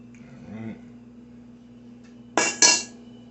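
A small spoon strikes dishes twice in quick succession, two sharp, close metallic clinks near the end of the clip, after a brief stretch of quiet kitchen sound while burritos are made.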